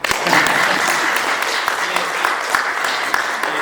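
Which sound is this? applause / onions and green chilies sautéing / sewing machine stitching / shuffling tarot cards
applause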